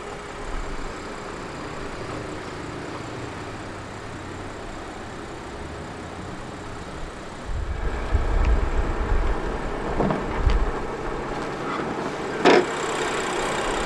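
A 2015 BMW X6 xDrive35i M Sport SUV with its N55B30 engine runs at a steady low idle, then a louder start-up surge near the middle settles into a fuller, rougher idle with a couple of brief clicks.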